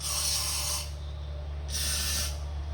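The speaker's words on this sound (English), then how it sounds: "you can go in here and spray your exhaust valves" Two bursts of aerosol spray hiss onto the exhaust valves of a 1967 Dodge Coronet 440 Six Pack engine, each under a second, over a steady low engine hum.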